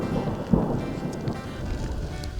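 Quiet, distant thunder rolling over the High Uintas during an afternoon mountain storm; a low, soft rumble with a faint thump early on, steady rain-like hiss beneath.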